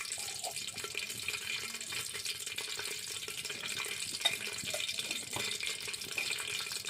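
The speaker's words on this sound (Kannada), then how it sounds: "ನೋಡಿರಿ ಎಣ್ಣೆ ಚುರುಚುಟ ಅನ್ನತ್ತದ" Mustard and cumin seeds crackle in hot oil in a village kitchen, making a steady close sizzle thick with fast tiny pops, loud and continuous with no voices.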